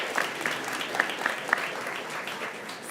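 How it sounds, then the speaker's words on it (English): Audience applause at a food waste event panel, a brief even burst of clapping from a modest crowd, a few claps standing out, with no talk. "Please give her a round of applause"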